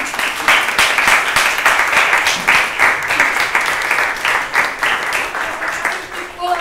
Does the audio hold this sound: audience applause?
yes